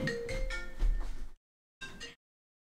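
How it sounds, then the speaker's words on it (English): A phone rings with an incoming call: a bright electronic ringtone pulses in a few quick bursts, pauses, then chirps once more before cutting off, loud and close with no speech. "I get a phone call."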